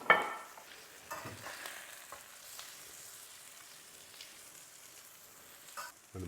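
An egg fries in butter while being basted, giving a steady soft sizzle with faint scraping and spooning touches, close and even throughout, with no voices.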